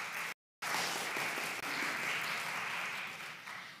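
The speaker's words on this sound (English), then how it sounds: "Please give them a round of applause." Audience applause at a church annual meeting, sustained even clapping from a seated crowd that drops out briefly near the start and then continues, moderately distant.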